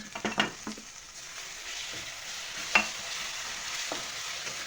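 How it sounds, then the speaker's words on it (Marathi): Finely chopped tomatoes drop into a hot frying pan of aloo matar base, giving a loud initial splash and stir followed by a steady close sizzle with occasional spoon scrapes, and no voices. "आता यामध्ये आपल्याला जे आपण बारीक केलेले टोमॅटो आहे ना हे घालून घेऊ"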